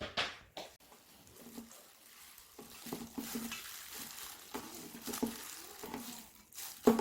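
Hands work kimchi seasoning into napa cabbage, making soft, wet squishing and rustling sounds in uneven bursts, fairly close and quiet.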